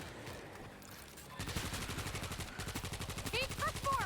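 Rapid bursts of video game gunfire rattle in quick repeated volleys, close and loud, with a quieter stretch at the start before the shooting picks up.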